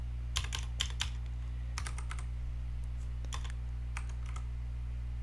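Rapid typing on a computer keyboard while entering part names into circuit schematic software, with irregular bursts of crisp key clicks and short pauses, close and clear over a steady low electrical hum, with no talking.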